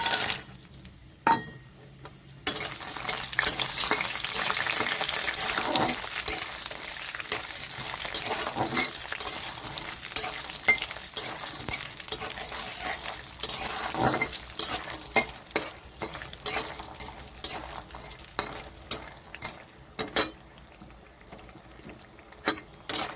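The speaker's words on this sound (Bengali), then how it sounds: "কড়াইতে সর্ষের তেল দিয়েছি তেলটা গরম হয়ে গেছে এখন আমি বড়িগুলো ভেজে নিচ্ছি" Lentil dumplings (bori) fry in hot mustard oil in a karahi, giving a continuous crackling sizzle broken by sharp scraping and stirring knocks of a utensil against the pan.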